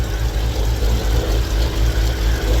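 A rebuilt car engine with a new water pump, alternator and oil catch can runs steadily up close, a continuous low rumble with no talk over it.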